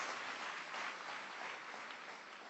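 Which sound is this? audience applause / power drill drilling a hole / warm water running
audience applause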